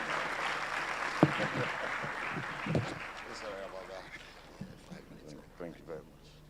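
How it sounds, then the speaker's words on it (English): A room of people applauds at a business school management day celebration, the clapping loudest at first and then thinning out, with a few scattered claps near the end. "A round of applause for you"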